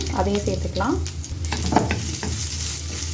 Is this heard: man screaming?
no